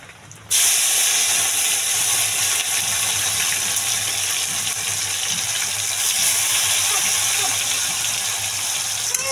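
Onions hit hot oil with cumin in a pan and burst into a loud, close sizzle that starts abruptly and holds as a steady hiss for the rest of the clip.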